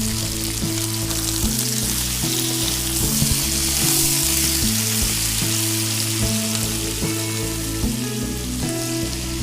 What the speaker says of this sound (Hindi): तब इसमें हम लहसुन अदरक का पेस्ट डालेंगे, और 2 से 3 मिनट इसको फ्राई करेंगे लहसुन अदरक के साथ।